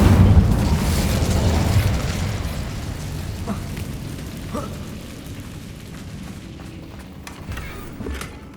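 An Incendio fire spell in Hogwarts Legacy bursts in a loud whooshing blast at the start, then fades into a crackling, rumbling tail with a few faint pops.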